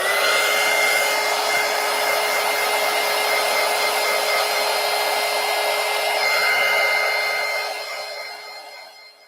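A hair dryer blows on wet paper for a mixed media poster book, giving a loud, close, steady whooshing whir with a constant tone for several seconds before it winds down near the end.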